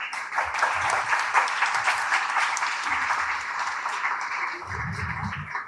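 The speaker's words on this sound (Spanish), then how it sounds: "Un fuerte aplauso, por favor." At a public citizenship forum, the audience gives a strong round of applause, a sustained dense clapping that fades slightly toward the end as a voice begins speaking underneath.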